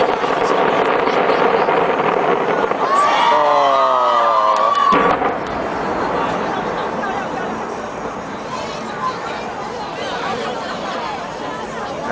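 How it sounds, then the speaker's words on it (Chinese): A large crowd at the 2010 Taipei 101 New Year's Eve fireworks show cheers and applauds in a dense, continuous roar, with a brief whistling tone rising through it partway. "底下也爆出了热烈的掌声。"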